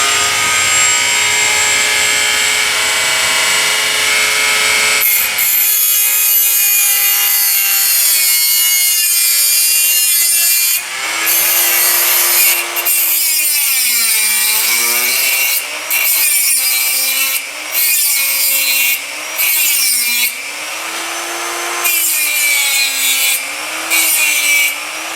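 A small cutoff blade on a rotary tool grinds a V groove into a wooden gun stock, a loud continuous whine that repeatedly dips and rises in pitch as the blade bites and eases, with brief pauses between passes.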